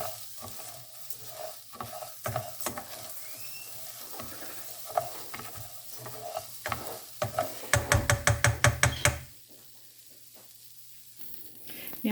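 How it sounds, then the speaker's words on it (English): Chopped onion sizzles and sautés in a pan, soft frying hiss with intermittent stirring scrapes, then a quick run of rhythmic clicks before quieting. "I'm going to also add some chopped onion, and I'm going to saute that up and let that brown up"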